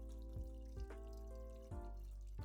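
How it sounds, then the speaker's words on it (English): Tap water runs steadily into a pot for cooking pork chashu, a close, continuous trickle with a few brief splashy bumps as the flow hits the water. "I turn off the heat and add the water."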